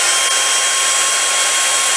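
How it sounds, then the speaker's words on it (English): A small-bit power drill whines loudly and steadily as it deepens a hole in an Oral-B toothbrush head, a continuous high-pitched buzz with no voices. "I just take my drill with a small drill bit,"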